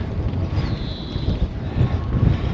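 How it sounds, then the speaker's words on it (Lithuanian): Strong spring wind buffets the microphone of a cyclist riding along a town sidewalk, giving a close, low, uneven rumble that swells and gusts louder toward the end. "Ir miestelį dar stiprus vėjas."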